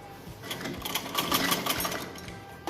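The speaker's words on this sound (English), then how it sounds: "Place this cloth in the up direction and do press stitching on the petticoat's cloth like this." A sewing machine press-stitching a fabric petticoat panel chatters in a quick, even run of needle strokes, close and moderately loud, with no talk.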